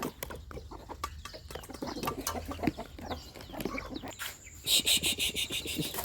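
Chickens clucking and calling in a rural yard in the early morning, a busy mix of repeated clucks and short cries, with a rooster-like call near the end and crickets faintly underneath.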